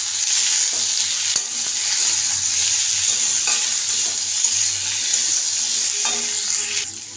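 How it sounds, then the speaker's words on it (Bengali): Tomatoes and spices fry in a pan with a steady, close sizzle and occasional stirring scrapes, with no talking. "এবার টমেটোটা এর মধ্যে দিয়ে দেবো।"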